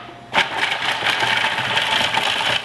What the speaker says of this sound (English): first we're gonna start off by grinding our garlic and our walnuts